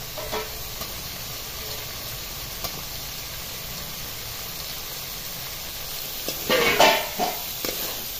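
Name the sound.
stirring drumstick pods in sizzling spice masala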